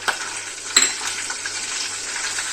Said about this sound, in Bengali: এক চামচ মতো গোটা জিরেটা দিয়ে দিলাম